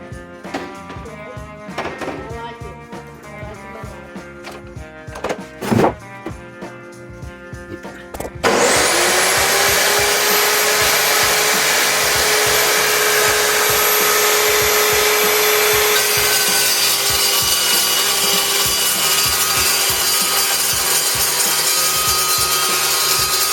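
A DeWalt metal-cutting chop saw spins up after a quieter start, then cuts metal with a loud, steady, high-pitched whine that holds for about fifteen seconds.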